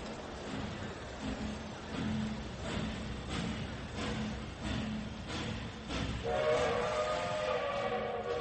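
A train leaves a station with a steady rolling rumble and rhythmic wheel clacks, while a drawn-out horn-like tone rises near the end.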